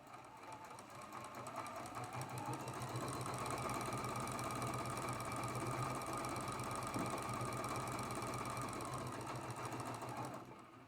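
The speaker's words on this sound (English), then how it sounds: "we're going to sew this seam" A sewing machine stitches a quilt seam on a flying geese block, its motor running in a steady, even drone that holds for several seconds before easing off at the end, close and alone.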